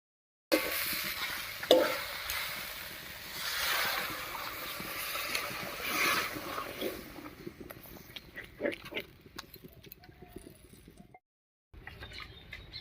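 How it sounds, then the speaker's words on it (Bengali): Water poured into a pan of frying cabbage and potato for a curry, a rushing splash and hiss at first that eases into softer bubbling and sizzling, with occasional stirring clatter near the end. "এবারে ঝোলের জন্য জল দেব।"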